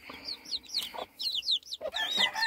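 Gamefowl chickens, breeding birds of good bloodlines, clucking and calling in a repeated series of short, fairly close squawks. Louder bursts come through at the start and again near the end, over faint farmyard background noise.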